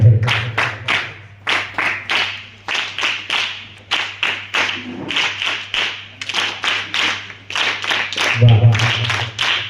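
An audience at a school music camp claps in steady rhythmic unison, loud and close, with several pauses between bursts and a low hum running underneath.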